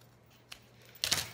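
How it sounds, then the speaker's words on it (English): Scissors cut through folded fabric mesh in a deep V, a faint click followed by a brief crisp snipping crunch, close and quiet. "fold it in half, cut at a deep V"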